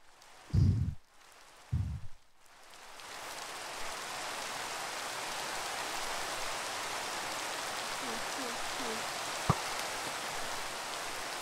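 Steady hiss of rain falling at night over a swamp in the Minecraft mod Pixelmon, a continuous soft wash that fades in after two brief low thumps at the start, with a faint click near the end.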